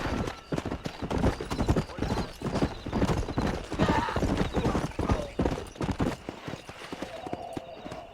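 Horse hooves gallop in a fast, steady clip-clop rhythm in Red Dead Redemption, loud and close throughout, with an occasional whinny and no talk.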